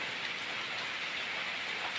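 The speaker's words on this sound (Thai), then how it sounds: "ฝนเอ้ยฝน" Heavy rain pours down steadily without a break, a dense even hiss of drops on surfaces that fills the whole stretch.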